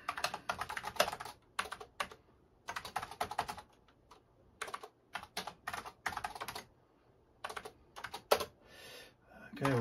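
Typing a program on an MSX computer keyboard, close and crisp bursts of rapid key clicks separated by short pauses, with no talking.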